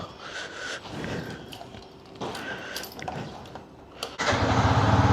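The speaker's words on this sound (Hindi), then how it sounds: "चलो जी चले, करें बाइक स्टार्ट।" A motorcycle engine cranks and catches, then settles into a steady, louder running note in the last second, following a stretch of quieter outdoor background.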